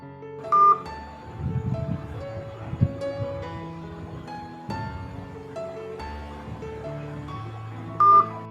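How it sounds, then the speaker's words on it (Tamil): A mobile phone places a call to a number, with two short, clear electronic beeps near the start and end over soft background music. "இப்போ நான் அந்த நம்பரை எடுத்து கால் பண்ணி பார்க்குறேன்"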